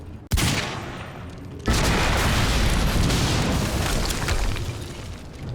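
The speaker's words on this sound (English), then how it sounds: "we just heard an explosion near the harvesting perimeter" Shot barrels exploding in the video game Quantum Break: a sharp blast followed moments later by a second, heavier explosion that trails into a long, loud, rumbling roar of debris and fire.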